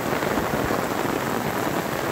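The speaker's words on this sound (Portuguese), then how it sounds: "Aí a chuva tá molhando aí." Steady rain pours across the backcountry of Bahia, Brazil, a dense continuous hiss with no talk over it.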